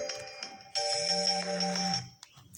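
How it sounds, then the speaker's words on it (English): An electronic alarm tone rings steadily for about a second and a half, fairly loud, with faint background noise before and after. "That's my alarm."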